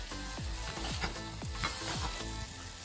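Chicken smashburger patties frying on a hot griddle, a dense continuous sizzle with a repeated low rhythmic thumping in the background, no voices.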